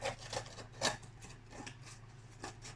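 Scissors snip and trim craft material for a Christmas craft, a few quiet, irregular cuts close by over a steady low hum, with no talking.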